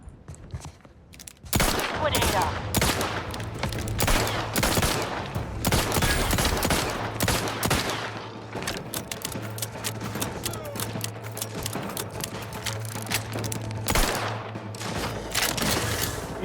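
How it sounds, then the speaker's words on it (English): Rapid shotgun blasts and explosive bursts from an incendiary shotgun in The Outer Worlds 2, firing loudly and repeatedly in a dense volley that continues almost without pause through the whole stretch. "Incendiary shotgun time!"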